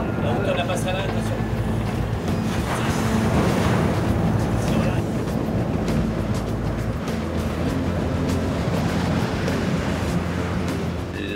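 Rough seas near Cape Horn batter a ship, with a constant heavy rush of waves and wind buffeting the microphone under a speaking voice.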